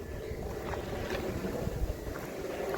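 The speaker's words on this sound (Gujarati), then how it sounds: "જુઓ ટ્રેક્ટરમાં બેરલ ભરાઈ છે ડાયરેક્ટ મોટરથી ને જ" A motor pump on a farm pours water straight into a barrel on a tractor, a continuous close, rough whooshing drone with gusty wind noise over it.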